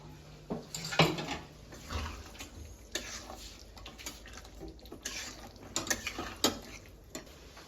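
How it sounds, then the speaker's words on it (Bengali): A spoon scraping and clinking against a cooking pot while spiced chicken is stirred, with irregular sharp taps and scrapes over a faint background hiss, close and fairly quiet, no talk. "চলো একটু নাড়িয়ে নিই লাস্ট"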